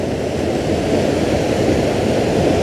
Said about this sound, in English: a miniature waterfall.